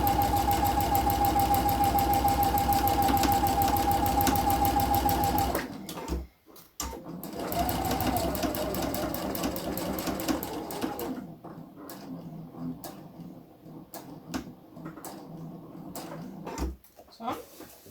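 A sewing machine runs fast and steadily while stitching a piped zipper pocket, making a dense, even mechanical whir. It then stops, followed by short bursts of stitching and some handling noise, with a voice speaking quietly.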